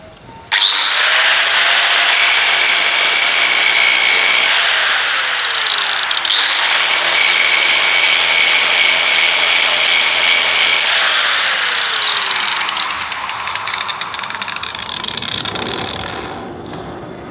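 A DongCheng DSM17-100P angle grinder with a polishing disc works an iron surface, a loud continuous high whine and rasp that holds steady for long stretches with brief dips, the pitch sagging and recovering as pressure changes.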